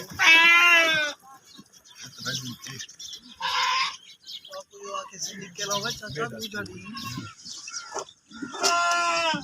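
Goats bleating loudly at a flooded village in Rajanpur, with a long nasal bleat at the start and another near the end, while people talk nearby in between.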